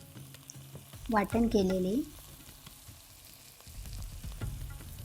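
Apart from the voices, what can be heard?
frying green chillies, cumin and curry leaves for okra bhaji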